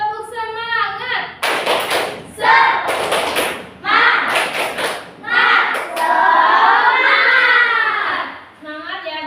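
Children in an Indonesian classroom clap along to a rhythmic clapping chant, bursts of hand claps alternating with sung and spoken voices of kids and a teacher, loud and close.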